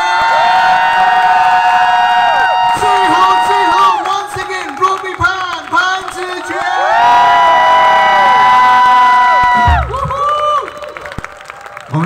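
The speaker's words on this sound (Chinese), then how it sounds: "热情的掌声" An audience cheers and whoops loudly for a performer, with sustained shouting voices and some clapping beneath, swelling, then dropping off near the end.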